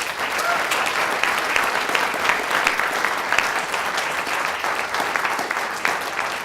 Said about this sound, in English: Round of applause for our finalists, please.